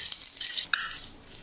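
Eggs fry in hot oil in a pan for an egg and pointed gourd curry, giving a steady close sizzle with a brief utensil clink partway through, no voices.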